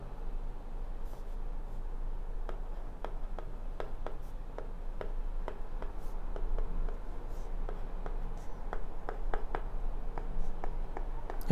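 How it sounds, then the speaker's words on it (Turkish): Stylus tip scratching and tapping across the screen of a Xiaomi Wicue 11-inch LCD drawing tablet, a close, steady series of small ticks and strokes while writing, no voices. "Şimdi örnek yazmaya başlayalım."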